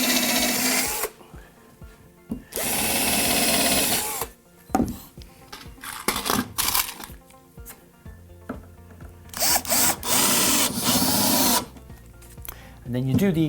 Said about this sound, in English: Couple more pilot holes in here.